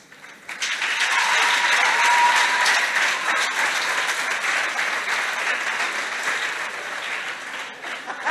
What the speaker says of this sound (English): you can see they've given you a round of applause